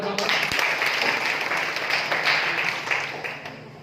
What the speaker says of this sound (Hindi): इनके लिए तालियां बजाओ